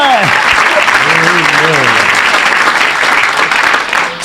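A church congregation breaks into loud, sustained applause and cheering, and a voice carries over the opening moments.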